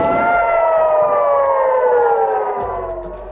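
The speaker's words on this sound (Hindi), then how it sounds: "इस इलाके में हवाई हमलों के सायरन बज उठे।" An air raid siren sounds in Kiryat Shmona during a Hezbollah rocket attack, a loud steady wail that slowly falls in pitch, heard alone without voices.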